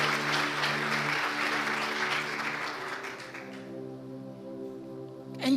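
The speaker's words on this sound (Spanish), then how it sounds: "Dale un fuerte aplauso a Él" A church congregation applauds loudly during a worship service, steady dense clapping that thins toward the end, with a sustained organ-like chord held underneath.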